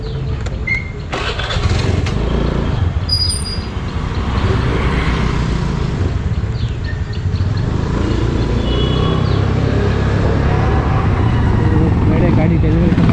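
A Royal Enfield Himalayan 450 motorcycle rumbles close by at its delivery, with a steady loud engine note and running throughout, while people talk over it.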